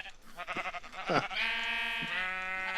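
Sheep bleating in Minecraft, a wavering blocky bleat that holds steady and close after a brief spoken interjection, with game background under it.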